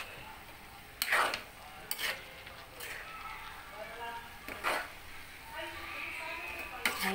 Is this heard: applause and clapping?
no